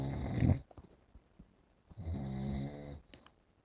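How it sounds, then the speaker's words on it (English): An elderly man snores loudly while asleep: two long, rumbling inhaled snores separated by a quiet pause, close to the microphone with no talk. "Please excuse my father for snoring."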